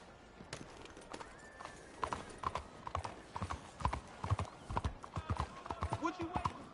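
Horse hooves clip-clop in a steady, uneven walking rhythm in Red Dead Redemption 2, close and moderately loud, while someone talks over them and a horse whinnies briefly.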